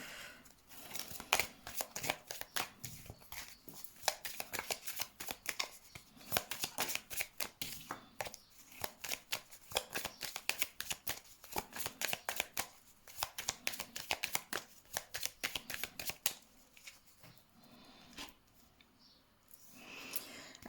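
Tarot cards are shuffled close up for a reading, with dense, rapid riffling and slapping bursts that repeat in irregular flurries, thinning toward the end.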